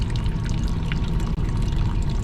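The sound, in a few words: water leaking from HVAC fan coil unit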